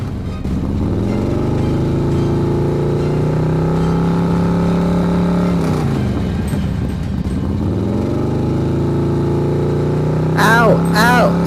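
A car engine revs and surges with rising and falling pitch during a night chase on a jungle patrol, with people shouting in alarm over it throughout.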